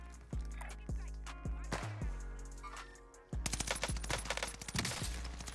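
Rapid bursts of MP40 submachine gun fire in a video game, loud and close, with sharp repeated shots and some heavier blasts, continuing in dense volleys through the second half.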